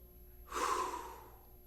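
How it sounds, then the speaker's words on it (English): A person folded forward with hands pressed on the belly takes one deep breath, a soft close inhale that swells and slowly fades in a quiet room. "try and take a deep breath."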